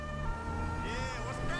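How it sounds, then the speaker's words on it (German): A police car siren in the video game GTA V, a wailing tone sweeping up and down under a steady engine hum, moderately loud with a second siren layer joining partway. "während man dieses E da gedrückt hält für die sekundäre Sirene"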